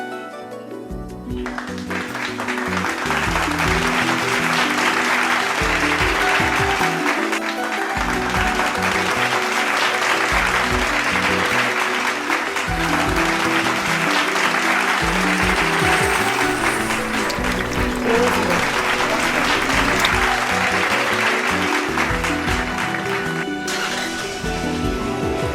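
Crowds of people clap for frontline medical workers, a dense, sustained round of applause that starts abruptly and stays loud and steady, with faint voices mixed in.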